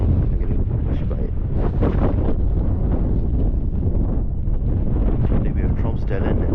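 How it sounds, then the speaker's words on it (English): Strong Arctic wind buffets the microphone on the Tromsø observation deck in Norway, a loud continuous rushing roar with gusty surges throughout. "The wind is pretty strong."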